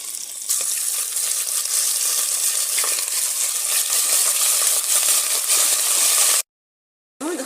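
Meat frying in melted fat, a loud close sizzle and crackle that starts abruptly and runs steadily, then cuts out briefly near the end.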